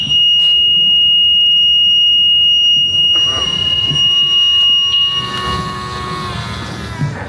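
A car with its hood up gives a sustained high electronic beep after being locked, a steady tone that shifts and changes partway through, with faint room noise around it.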